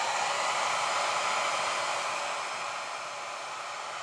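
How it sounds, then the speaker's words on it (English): A 1875-watt hair dryer runs on its low setting, giving a steady, close, airy whoosh with a constant motor hum that eases slightly in level toward the end, with no voices. "low for the hair dryer"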